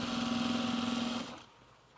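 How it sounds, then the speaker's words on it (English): A sewing machine stitches pants fabric, a steady motor whir with a rapid needle rhythm running for just over a second before cutting off into quiet. "now we're going to stitch this into place"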